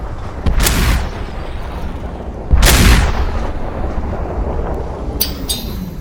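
Shotguns fire in the virtual reality game SuperHot VR: two heavy booming blasts a couple of seconds apart, each trailing into a long rumbling decay, with fainter sharp reports near the end.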